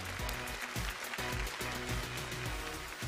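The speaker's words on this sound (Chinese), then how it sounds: "掌声送给蕾蕾" Studio audience on a Chinese TV quiz show applauds a departing contestant, a steady spread of clapping mixed under a pulsing music cue, fairly quiet overall.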